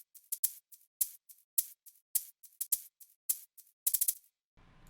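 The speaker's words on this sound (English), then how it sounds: "for the shakers, it gives it like the back and forth thing" Two shakers trade off in a quick back-and-forth pattern within a dance beat, one panned to each side, the softer one sitting on the kick; crisp rhythmic bursts repeat steadily, ending with a short patch of low noise.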